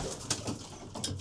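Racing pigeons coo softly in a loft, a few close, breathy coos repeating over a low room hum, with light rustling between calls.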